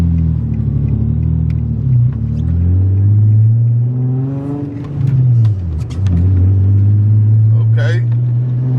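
Nissan 350Z with a carbon fiber body cranking and catching, its engine then revving in loud rising and falling surges that fill the clip, close and continuous.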